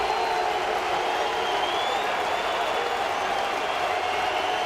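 A baseball crowd at a Dodgers–Mariners game during a combined no-hitter rises to its feet, a steady roaring wash of cheering and clapping that holds loud and even throughout.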